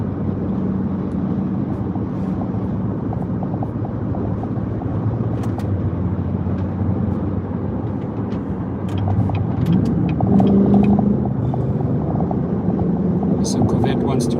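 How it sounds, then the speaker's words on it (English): A Corvette sports car in heavy highway traffic leaving Los Angeles, heard as a constant roar of engines and tire noise with swelling passes, while people talk throughout. "So Corvette wants to race."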